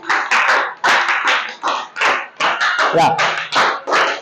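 Audience applause at a student presentation event, a steady run of brisk, rhythmic clapping with distinct rapid bursts, close and fairly loud, with a brief voice over it.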